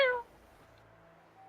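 A cat in the video game Divinity: Original Sin II lets out a single short, clear meow that fades quickly, leaving a faint quiet game backdrop with no talking.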